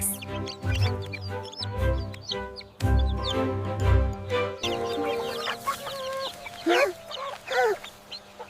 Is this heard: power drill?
no